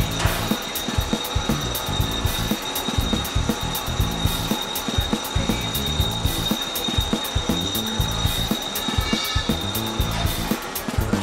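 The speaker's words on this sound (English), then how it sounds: "drilling your holes" Power tool working on metal while fabricating pieces for an electric reverse trike frame, a continuous busy grinding whir with rattling mechanical texture throughout, moderately loud and close.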